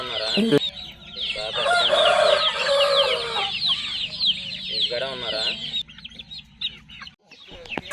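Chickens and chicks cluck and peep steadily in a bred-for-quality flock of about twenty young birds, with busy overlapping calls close by and occasional faint talk underneath.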